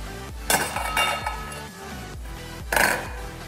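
Ginger slices dropped into a bowl while cooking rainbow trout, giving a few bright clinks and taps of pieces and the bowl, with one louder clatter near the end, close and without talk.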